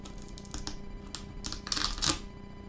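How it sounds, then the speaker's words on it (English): Cellophane wrap is peeled and crinkled off a Yu-Gi-Oh 2016 Mega Tin, giving close, quiet, irregular crackling and rustling bursts with soft handling noises between them. "let's actually get the cellophane off of it"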